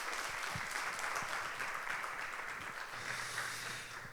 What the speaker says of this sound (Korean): 우리 목사님 앞으로 나오실 때 힘찬 박수로 함께 격려해 주시고 축복해 주시기를 바랍니다